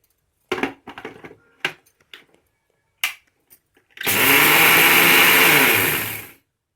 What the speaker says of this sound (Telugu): ఇప్పుడు మనం మిక్సీ వేసుకుందాం.